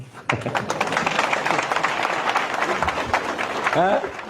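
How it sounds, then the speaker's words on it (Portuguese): Audience applause at a political talk on reforming the electoral system, a dense wash of clapping filling the whole stretch with a voice speaking over it. "vocês não batem palmas por quê?"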